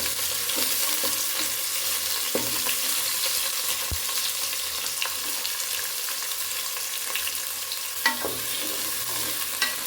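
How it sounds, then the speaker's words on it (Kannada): Onions frying and being stirred in a pan for Kannada-style palak (spinach) rice, a steady soft sizzle throughout with occasional scraping stir sounds, no talking. "ಇವಾಗ ಈರುಳ್ಳಿನ ಚೆನ್ನಾಗಿ ಹುರ್ಕೊಳ್ಳೋಣ"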